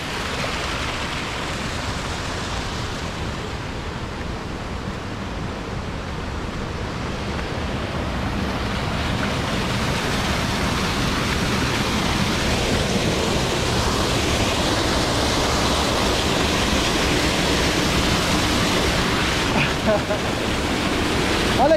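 Small waterfall on the Búrica River, a loud, steady rushing roar of falling water that grows slightly fuller midway, heard up close, with faint voices underneath.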